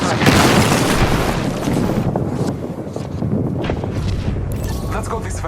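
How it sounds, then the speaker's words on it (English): Booming airstrike explosions in Apex Legends, a heavy rumbling barrage that rolls on continuously, loud and close, with wind-like noise and game voices mixed in. "Airstrike."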